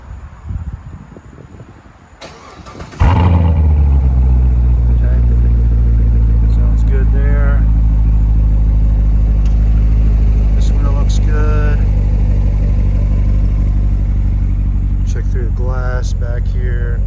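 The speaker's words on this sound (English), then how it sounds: "Let's crank it up real quick." A 2018 Chevrolet Corvette 3LT with Z51 package cranks and fires at close range, then settles into a loud, steady rumbling idle while someone talks over it.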